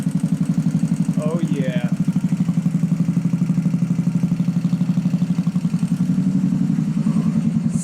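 A handbuilt Royal Enfield chopper with a stock VM32 carburetor runs loud and steady, its engine thumping in a fast even rhythm close by, while someone speaks briefly over it.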